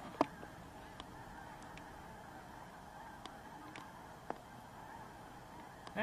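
Faint honking from a flock of a few hundred geese carries from a distance, scattered calls rising over a quiet, airy background.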